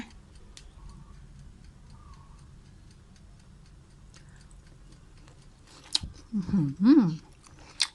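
Someone chewing crispy air-fried pork belly, making faint, regular crunching ticks up close, followed by a brief louder burst of crunching and a short voiced hum near the end.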